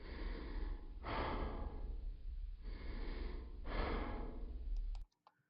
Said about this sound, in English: And then Evan's breathing.